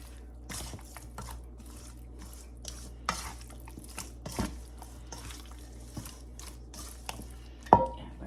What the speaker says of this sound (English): So let me stir these up